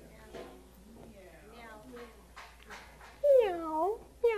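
A person's voice imitates a cat's meow, rising and falling in a few drawn-out calls, with speech around them and one louder meow near the end.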